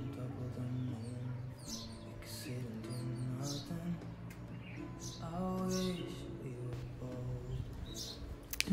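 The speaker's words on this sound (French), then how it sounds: "Je vous laisse avec le son des oiseaux" Small birds sing in the morning outside a home during daily chores, with thin, scattered chirps over a steady low hum of household background noise.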